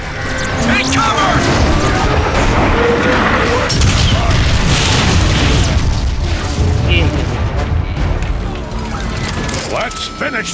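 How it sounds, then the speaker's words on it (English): Artillery strike explosions in the video game Transformers: Fall of Cybertron against a marauder, with heavy booms, crashes and mechanical clatter rolling on for several seconds under frequent battle voices. "I'd be curious as to what an artillery strike would do to that marauder"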